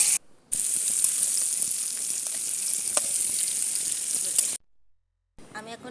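Vegetables and flat beans frying in oil in a pan, a steady loud sizzle lasting about four seconds, then a brief silence and a short burst of stirring.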